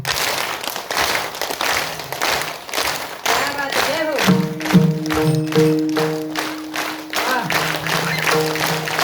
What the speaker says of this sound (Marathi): फक्त टाळीचा आवाज आला पाहिजे